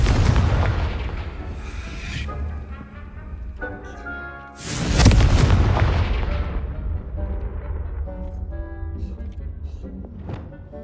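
Confringo fire spell in Hogwarts Legacy exploding, a booming blast that swells and then fades into a long crackling rumble, with game effects layered around it.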